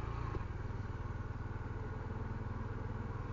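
Honda Trail 125 CT125 motorcycle cruising on paved streets, a steady mid-pitched engine drone with constant road and wind rumble, close and continuous with no voices.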